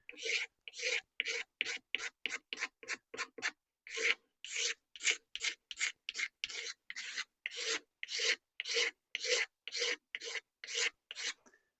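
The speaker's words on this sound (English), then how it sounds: "And then a wee sand with something." Sanding a dark, oil-soaked wooden hatchet handle on a W. Gilpin hatchet: steady rhythmic rasping strokes, about thirty back-and-forth passes, close and fairly loud, with no talking.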